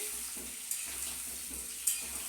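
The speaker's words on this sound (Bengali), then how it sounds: "এখানে আমি কি করছি, আলুটাকে আগে ভালো করে ভেজে নিচ্ছি।" Cubed potatoes fry in a pan with salt and turmeric, giving a steady close sizzle with a couple of sharper crackles and pops, no voices.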